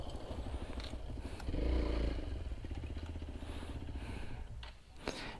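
An off-road motorcycle engine rumbles steadily up close, swelling into a louder rev briefly before settling back to a throaty idle.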